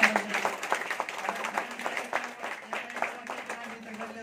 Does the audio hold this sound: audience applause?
yes